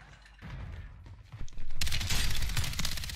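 Gunfire in Call of Duty: Modern Warfare III during a Resurgence ranked match, rising from scattered mechanical clatter into a loud, sustained burst of dense shots over the last half.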